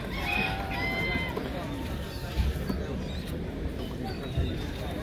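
Chickens at a busy poultry fair in Kropotkin give short bird calls early on, set against a steady crowd murmur and market bustle, with occasional thumps.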